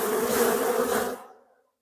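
A dense, steady buzz of honeybees swarming close by as they are shaken off a hive frame, then cutting out abruptly and fading to silence.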